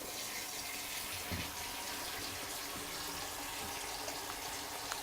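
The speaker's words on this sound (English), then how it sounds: "So I'm going to turn the water on up here." Steady broadband hiss of water running from a faucet into a sink, continuous and fairly even throughout, with a few faint knocks in the background.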